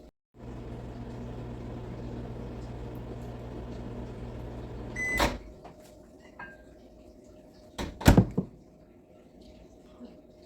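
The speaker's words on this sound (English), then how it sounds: "I chop it up, coffee cup, put it in the microwave." A microwave oven hums steadily as it melts chopped butter in a coffee cup, a low, even drone followed by a couple of sharp clinks and a door-like clatter near the end, with no voices.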